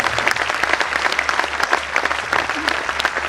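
Loud, dense audience applause at a Hindi poetry gathering, continuous clapping from a large crowd sustained throughout with a low hum underneath.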